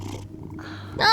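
Cat purring in the video game Life is Strange: Double Exposure, a soft steady low rumble under quiet game ambience, ending in a brighter burst of sound.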